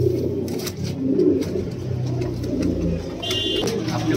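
Desi Kangra pigeons coo in a steady, murmuring run of low calls, close by and continuous, with faint chirps and a brief high tone over them.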